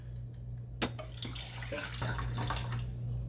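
Water is poured into a Moccamaster drip coffee maker's reservoir, a steady close splashing and trickling with a low hum running underneath throughout.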